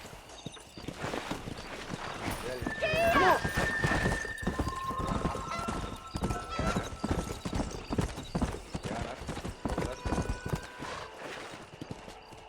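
Horse hooves clip-clopping in the video game Red Dead Redemption, a steady rapid gallop that runs the whole time, with a whinny early on and music tones over it.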